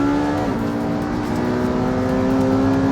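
A 918 four-wheel-drive car launches off the line with a loud, steady engine drone that climbs in pitch and briefly dips near the start, continuing at full volume for about three seconds with no talk.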